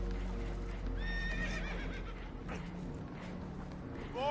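Spooked horses neigh and whinny aboard a boat taking on water, with two shrill, quavering calls close by and another starting at the end, over hoof clatter and a rumbling background.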